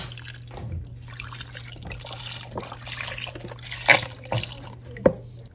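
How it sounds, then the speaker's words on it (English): Water trickles and drips into a pot on a home stove during meal prep, a light uneven splashing with a few louder drops near the end, close by and without talk. "I'm going to put some water in here"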